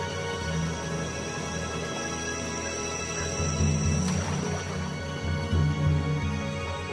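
A low, rumbling call from a Bornean pygmy elephant carries faintly from a distance over a steady outdoor background, a single drawn-out vocalization rather than repeated calls.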